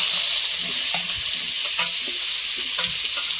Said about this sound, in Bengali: এবার এই অবশিষ্ট তেলের মধ্যে আলুগুলো ভেজে নেব।